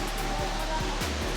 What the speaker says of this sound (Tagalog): so narinig natin yung tubig